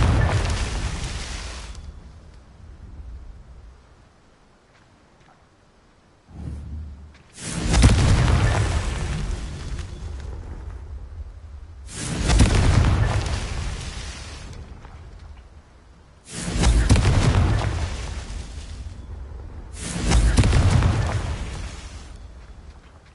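The Confringo blasting spell in a Harry Potter video game sets off four or five loud, booming explosions, each bursting sharply and then rumbling away over a few seconds, with quieter gaps between blasts.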